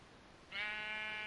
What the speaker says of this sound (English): A pink sheep!